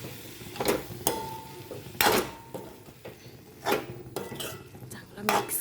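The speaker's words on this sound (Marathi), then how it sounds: "चांगला मिक्स करून घेऊ आपण." A spoon stirs a cauliflower vegetable mixture in a metal pan, giving sharp, irregular scraping clinks spaced about a second apart, close and fairly loud over a faint background hum.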